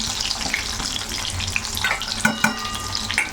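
Chopped garlic frying in a pan of hot oil for lasuni methi, giving a steady close sizzle with light stirring scrapes and a few sharper crackles.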